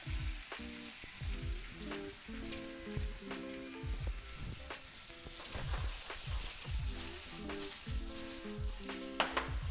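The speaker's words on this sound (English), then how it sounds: "we're gonna go ahead and throw in all of our pierogies." Pierogies and onions fry in a pan with a continuous crackling sizzle, peppered with rapid popping spits throughout, close and fairly quiet with no talking.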